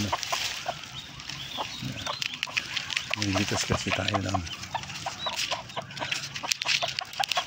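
A chicken clucks close by in short bursts, and a person speaks briefly over the sounds of the yard.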